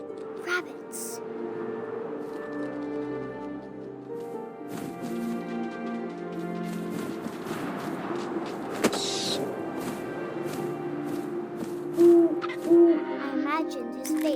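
Owl hoots in the video game What Remains of Edith Finch, a few soft calls near the end rising over a steady bed of ambient game music and wind.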